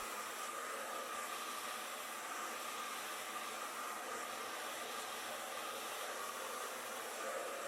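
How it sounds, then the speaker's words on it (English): Hair dryer with a nozzle attachment blow-drying natural hair for a silk press, a steady close whooshing roar held unbroken throughout, with no talking. "And blow dry with the attachment."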